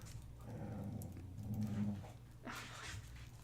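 Dogs whine and grumble in low, uneven vocal noises, a whimpering rise in the middle and a sharper yelp near the end, fairly quiet and close.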